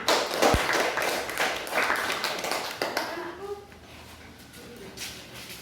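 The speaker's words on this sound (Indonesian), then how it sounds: "Mari kita berikan tepuk tangan" Schoolchildren in a classroom clap for a group's presentation, a short burst of scattered taps and claps that dies away quickly, followed by faint voices.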